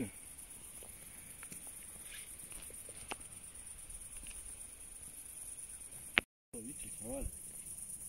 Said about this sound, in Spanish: Hoy sí voy a dormir como en el pueblo, al lado de los grillos.